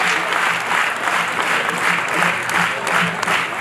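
An audience at a drug awareness event claps steadily for a trophy and certificate presentation, with dense, even applause that holds at the same level throughout.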